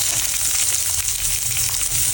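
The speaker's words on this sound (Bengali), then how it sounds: "এরপর দেওয়া হচ্ছে পেঁয়াজ" Sliced onion fries with green chillies and spices in a pan, giving a dense, steady sizzle that stays loud and close throughout.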